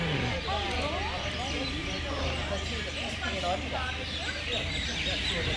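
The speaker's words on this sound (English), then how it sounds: "In Jamestown, listen to the sound of birds." Dense, overlapping bird chirps and calls fill the night air in Jamestown, with a busy murmur of background noise underneath throughout.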